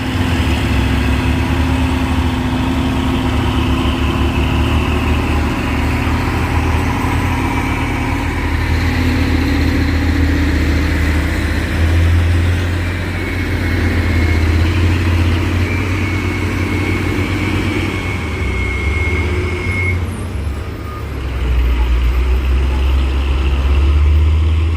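A Hino truck's engine labours up a steep hill at Bukit Kodok, a loud, constant low diesel drone that holds for the whole stretch with slight dips and swells in pitch, heard close with no talk.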